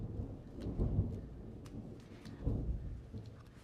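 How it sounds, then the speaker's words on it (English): Distant thunder rumbling from the mountains during a storm, a low rolling boom that swells twice and fades, faint and far off, with no one talking. "Hear a little thunder out there."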